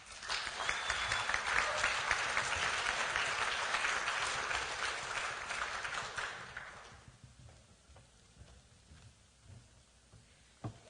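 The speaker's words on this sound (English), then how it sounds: "Thank you for that very warm welcome." Audience applause welcoming a speaker to the podium at a marijuana policy event, a dense, steady burst of many hands clapping for about seven seconds before fading into quiet room noise.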